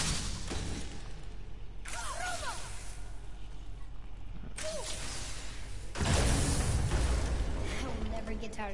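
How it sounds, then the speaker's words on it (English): Objects smashing apart in God of War, several sharp crashing bursts of debris spaced a few seconds apart, with the last one the loudest, amid game sound and voices. "I will never get tired of shattering things with this."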